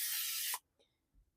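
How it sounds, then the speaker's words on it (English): Nonstick cooking spray hisses in one sustained burst onto bread pans, then cuts off sharply, followed by a couple of faint clicks and a soft thud in a quiet kitchen. "So just a little nonstick spray"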